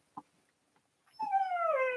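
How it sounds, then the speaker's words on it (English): A pet dog whimpers and cries from another room indoors, a faint thump first, then a sustained high-pitched whine that wavers and rises, moderately distant. "Y'all hear my dog?"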